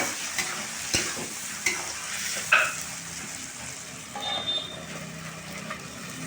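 Fish fries with salt in a pan, a constant close hiss of oil with a few light stirring knocks and scrapes over about six seconds, and no talking.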